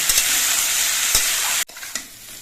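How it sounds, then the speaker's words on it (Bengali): Papaya pieces fry with salt in a pan over a medium gas flame, a loud close sizzle with stirring scrapes that cuts off sharply, followed by quieter sizzling and a few taps. "নুন দিয়ে পেঁপেটা নেড়ে চেড়ে মিশিয়ে নিতে হবে আর পেঁপেগুলো কিছুক্ষণ ভেজে নিতে হবে"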